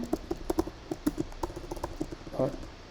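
Code is typed on a computer keyboard, with quick, uneven clusters of close key clicks and taps while someone talks over them.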